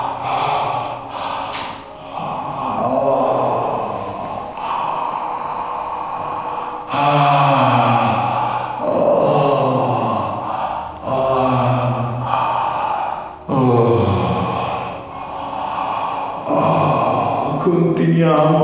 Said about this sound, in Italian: per far scaturire uno sbadiglio